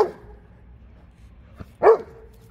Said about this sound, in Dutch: Lovely en die doet Tijna blaffen